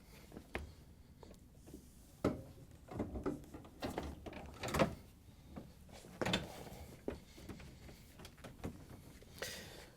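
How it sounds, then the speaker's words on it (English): A series of sharp plastic clicks and knocks, one louder snap standing out, as an LG/Kenmore freezer drawer door is lowered onto its rails and snapped into position close by. "you can lower it down and snap it into place"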